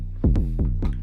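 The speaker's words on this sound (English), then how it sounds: "We then have the bass sound itself." Thumpy tech house bass synth patch with an envelope-shaped pitch, playing three punchy, sliding low notes in quick succession, loud and alone.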